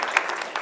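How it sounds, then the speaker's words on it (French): Audience applause at an artist's press conference for a Paris concert: a short burst of continuous group clapping with a few sharper claps standing out. "Donc, on applaudit."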